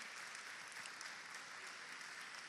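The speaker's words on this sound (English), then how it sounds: "Let's give another round of applause" Steady applause from an audience at a New York governor's announcement event about free community college, a dense even wash of clapping held at a consistent level throughout.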